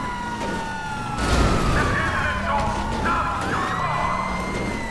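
A police car siren in GTA 5 Online wails continuously, its pitch sweeping up and down, with game engine noise and effects underneath.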